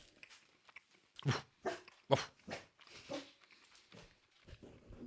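Dog barking in a handful of separate bursts across a few seconds, moderately loud and close, with short pauses between the barks and no talking over them.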